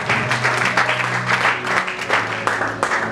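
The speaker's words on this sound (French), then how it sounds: "Bien aimé, nous acclamons pour notre Dieu" A church congregation applauds in praise of God, a dense, sustained burst of clapping from many hands lasting a few seconds, with a few voices mixed in.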